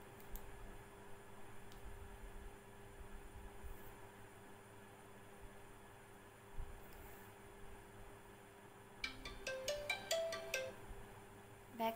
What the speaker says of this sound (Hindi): यहाँ पे सारे रिंगटोन्स है।